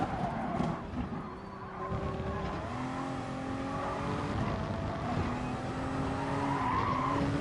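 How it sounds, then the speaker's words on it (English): A race car in Gran Turismo Sport runs flat out at full throttle, its engine droning steadily with rising and shifting tones and some tire squeal, continuous and fairly close with no talking. "Full throttle, full acceleration, full gas. Flat out."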